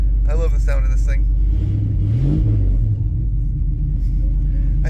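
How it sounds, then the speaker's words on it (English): A car engine rumbles loudly inside an enclosed garage with a fan running and gives one brief rev that rises and falls midway, while a person talks at the start. "I can't rev it too much because we're enclosed in here."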